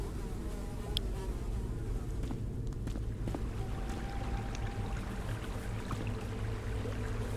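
Flies buzz in a latrine in a video game scene, a faint, continuous droning hum with small wavering shifts over a quiet background and no speech.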